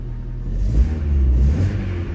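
An Opel Astra H engine revs steadily up and down, a close, loud low rumble with no misfire, heard alone.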